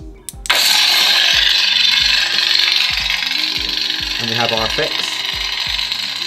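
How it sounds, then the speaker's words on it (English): A Kylo Ren sound font plays from a DIY empty lightsaber hilt: it ignites with a sharp crackling burst, then hums and sputters unstably, with a few louder swing surges, steady and close throughout. "This is a Kylo Ren sound font by Kyberphonic Fonts."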